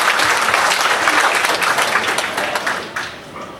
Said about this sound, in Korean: 환영의 박수를 부탁드리겠습니다